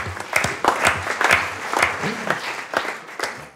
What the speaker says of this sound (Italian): Applauso, applauso.